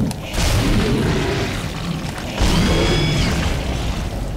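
A heavy booming explosion in the sci-fi horror game Dead Space 2, with two loud low-end bursts and mechanical rumble, the second rising around the midpoint and holding through to the end.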